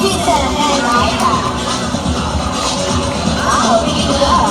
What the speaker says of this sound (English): A round of applause for Peter and Ida.